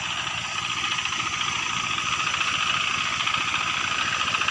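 A water pump engine in a tropical Kalimantan forest setting runs steadily and close by, a continuous droning motor hum with fast rhythmic chugging throughout, no voices over it.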